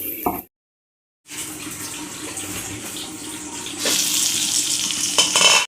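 Chicken gravy for biryani sizzles and bubbles in a pan with no water added, steady and fairly close, briefly cut off near the start, then growing louder and hissier toward the end.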